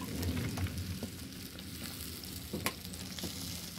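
Chicken frying in oil over a wood fire, a steady close crackling sizzle with scattered pops and occasional stirring clicks throughout, no voices.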